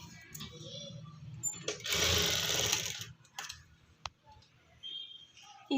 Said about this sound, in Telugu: ఇలా ఒక స్టిచ్ అయితే అన్ని డాట్స్కి నేనైతే ఒక స్టిచ్ అయితే వేసేస్తున్నాను.